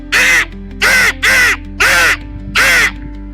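A child mimics a crow, giving five loud, harsh caws in an uneven rhythm, each about half a second long, close to the listener over a faint steady hum.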